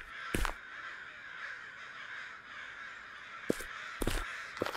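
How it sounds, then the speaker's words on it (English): Crows cawing in the Japanese horror video game Okaeri, a few harsh, sharp caws in short bursts over a steady, moderately loud ambient hiss. "I like all the crows over there."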